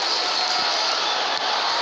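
A football crowd in the video game Dream League Soccer roars in a steady, loud, broadband wash of cheering that holds without a break.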